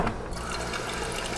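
A refrigerator water dispenser runs into a jar after a replacement filter fixed a hammering fault, giving a steady, close rush of pouring water with no knocking and no voices.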